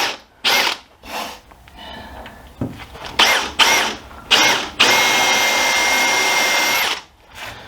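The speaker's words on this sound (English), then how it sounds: "I can drill a bit on the angle." A power drill buzzes in several short bursts, then runs continuously for about two seconds, close and harsh as it bites into metal.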